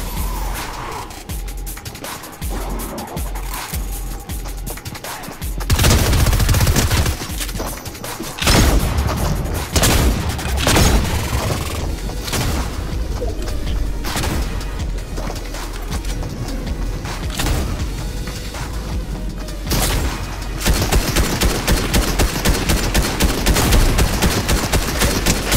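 Rapid SMG gunfire in the Fortnite video game, dense bursts with booms and game effects layered throughout, loud and continuous with no talking.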